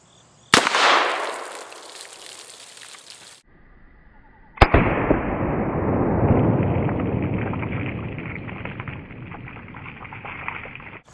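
Black powder Ruger Old Army revolver with a 5.5 inch barrel, loaded with a round ball and 777 powder, fires one loud, sharp shot, and the report rings and decays. A second blast comes a few seconds later and is followed by a long noisy rumble.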